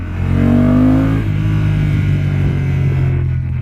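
A Honda NT 1100 motorcycle engine revs high after a downshift to second gear, a loud close drone that climbs briefly then holds a steady, strong hum with no talk.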